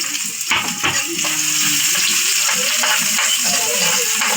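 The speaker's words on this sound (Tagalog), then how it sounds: "Ang ulam po namin ngayon ay gigisa ko muna itong bawang" Garlic and onion sautéing in a pan, a close, loud crackling sizzle with a few sharp clinks and stirring sounds early on, no voices.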